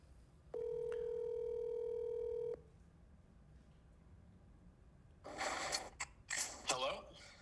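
A telephone line gives one steady electronic tone for about two seconds, then falls quiet before brief rustling and breathy noises close by.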